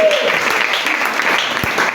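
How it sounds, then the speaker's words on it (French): Church congregation applauding and cheering for the Lord during a French-language worship service, steady dense clapping filling the whole stretch with a brief whistle-like tone near the start. "Est-ce qu'on peut acclamer pour le Seigneur?"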